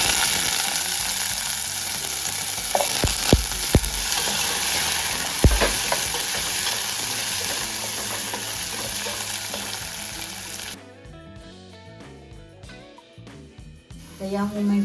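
Diced potatoes hit a hot pan of browned onion and garlic for a potato-spinach dish, setting off a loud, steady sizzle with occasional scraping stirs, and a voice talks over the cooking.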